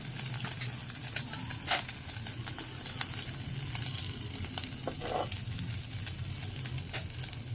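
Small fish frying in hot oil in a pan, a steady, fairly faint sizzle and crackle with a few louder spits, heard alone without talk.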